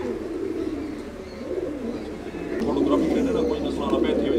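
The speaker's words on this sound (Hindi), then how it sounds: "लाल कबूतर दोस्तों, ये लाल कबूतर है, काफ़ी खूबसूरत है।" A red pigeon coos softly amid a busy bird-market din of other birds and background chatter, with people talking nearby throughout.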